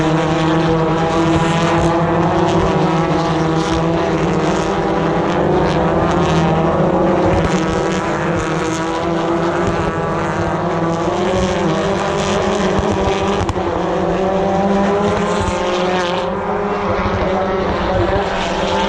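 BTCC touring cars racing hard at Thruxton circuit, engines droning loud and steady at close range throughout, with no gaps or pauses.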